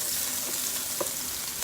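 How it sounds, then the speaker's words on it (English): Garlic cloves and onions fry in oil with a steady, close broadband sizzle, broken by a few soft clinks of stirring. No one speaks. "we're going to go ahead and let these cook along with your garlic"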